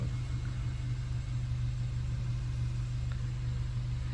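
A Suzuki Jimny engine idles while warming up, giving a steady, even low rumble close by that holds unchanged throughout, with no voices over it.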